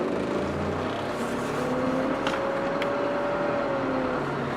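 An Isuzu NPR truck engine hums steadily as it drives and makes a right turn, with continuous road and engine noise and a faint tonal whine rising and falling, heard from inside the cab without speech.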